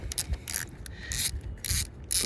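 Battery hold-down wedge nut on a diesel pickup being loosened, a series of close, scratchy rasping turns in short bursts with brief gaps between them.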